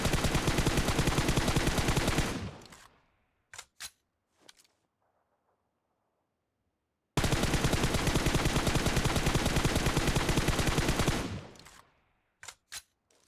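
Automatic M4 assault rifle fire in PUBG Mobile, with no attachments fitted, in two long sustained bursts, loud and close, each followed by a few sharp single clicks and pauses of silence.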